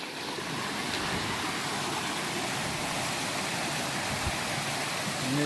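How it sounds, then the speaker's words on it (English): A stream rushes beside a hiking trail on the Appalachian Trail, a steady, broad wash of water that stays even and fairly close throughout, with no voices. "I like the sound of rushing water."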